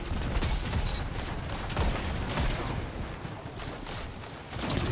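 Sustained gunfire in the shooter Destiny 2, a steady stream of rapid overlapping shots and mechanical clatter that stays loud and busy, with an announcer's voice faintly heard.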